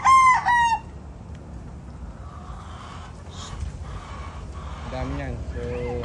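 Local WPC chickens, banded and ready for harvest, with roosters giving a loud nearby crow at the start and further crowing and clucking later, over steady background noise.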